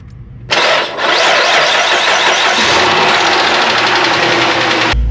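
A 2006 Chrysler 300 with a freshly rebuilt 42RLE transmission cranks briefly and fires up, then settles into a loud, steady close-up engine drone that runs until it cuts off near the end.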